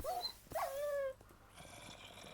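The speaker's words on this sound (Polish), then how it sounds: "Piesek!" A dog in the Minecraft video game growls and lets out whimpering whines, a few close, clear cries in quick succession, then quieter background game sound.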